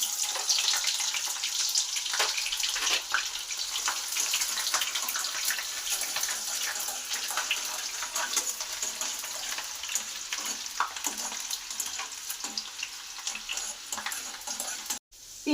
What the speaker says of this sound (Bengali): তেলটা গরম হয়ে গেছে, এবারে পেঁয়াজটা তেলের মধ্যে ছেড়ে দেবো।